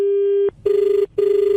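A telephone rings in two steady electronic bursts with short gaps between them, clear and close, following an earlier sustained tone, with no one talking.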